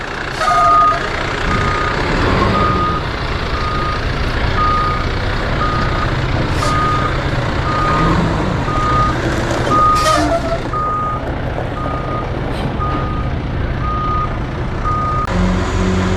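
A dump truck delivering a load of rock for a big driveway backs up, its steady backup beeper repeating at even intervals over a loud diesel engine rumble, with brief hiss and clatter sounds along the way.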